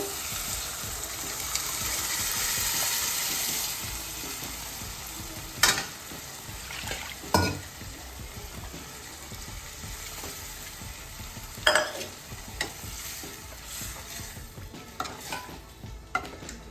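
Dal mixture frying and being stirred in a pan, a soft continuous sizzle broken by occasional scraping clinks of the spoon, close and alone without talk.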